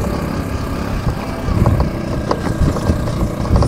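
An electric scooter's engine rumbles close by while water sloshes and splashes in irregular bursts as it rolls through mud near Dhap Dam, Nepal.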